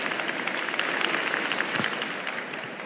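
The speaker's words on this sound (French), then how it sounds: "sous vos applaudissements." An audience applauding at a public talk or panel event, a full, steady round of clapping from many people with individual claps audible, continuing evenly throughout without speech.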